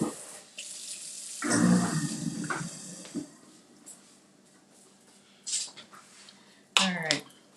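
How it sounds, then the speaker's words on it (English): Tap water runs into a kitchen sink during hand washing while cooking honey mustard chicken, coming in a few short bursts, the longest near the start, with quieter clatter between. "washing my hands"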